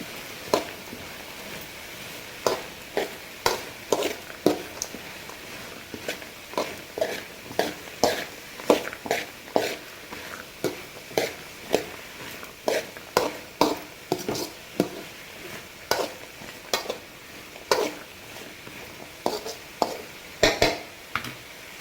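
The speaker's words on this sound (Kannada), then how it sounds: "ಇದಿಷ್ಟು ನೀಟಾಗಿ ಫ್ರೈ ಮಾಡ್ಕೊಳ್ಳಿ" A spatula stirs onions frying with salt and turmeric in a pan, scraping in a steady repeated rhythm over a continuous soft sizzle, close and clear.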